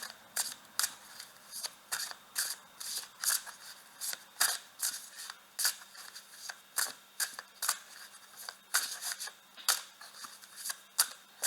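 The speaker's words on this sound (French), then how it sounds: "je vais prendre une carte de ce jeu-là" Cards slid and drawn from a tarot-style deck, giving a quiet run of soft papery flicks and snaps in an irregular rhythm.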